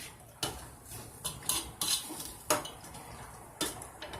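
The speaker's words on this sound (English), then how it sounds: "Stir all those ingredients in and just let it cook down." Stirring tough steak meat and ingredients in a pot for quesadilla tacos, soft scattered scrapes and clinks of a utensil against the pot over a faint simmering hiss, quiet and close.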